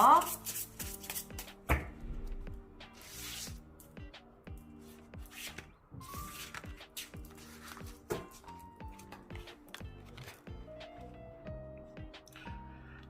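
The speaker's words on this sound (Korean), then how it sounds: "이 좋은 생각 카드 펼쳐보고 리딩 마무리하도록 할게요" Tarot cards shuffled and spread out for a reading, giving soft papery riffles and slides with light taps, close and fairly quiet, running alongside a speaking voice.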